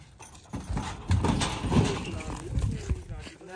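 Horses moving about a riding practice ground, with irregular hoof and body sounds close by and steady talk from people throughout.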